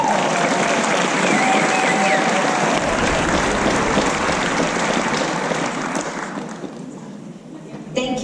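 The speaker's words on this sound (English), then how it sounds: "Let's give a round of applause." A convention panel audience bursts into loud, sustained applause and crowd noise, holding steady for several seconds before tapering off as a voice begins over the fading claps.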